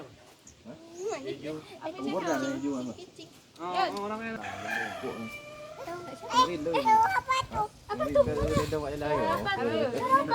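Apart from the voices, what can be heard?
chicken rooster crowing in a village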